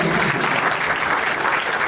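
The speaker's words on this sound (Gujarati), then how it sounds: "આ 5 જણને જોરદાર તાળીઓથી આપણે વધાવીએ." A crowd at a community gathering honouring five newly named committee members of a weavers' society in Radhanpur claps steadily and loudly for the full two seconds, a dense, even wash of applause with no voices standing out.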